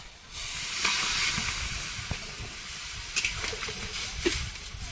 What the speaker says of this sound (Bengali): আলুটা ভালো করে কষিয়ে নিয়েছি, এবারে জল